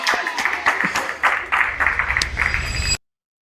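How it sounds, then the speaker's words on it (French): Studio audience clapping and cheering for a matched couple on a dating show, a lively burst of applause lasting about three seconds before cutting off abruptly, with no talk over it. "applaudissez-les s'il vous plaît"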